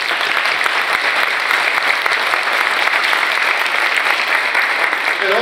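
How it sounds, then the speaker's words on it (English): A crowd at a highway dedication ceremony applauds in a loud, sustained, even wash of clapping that holds steady throughout with no break. "I want to applaud her for her efforts."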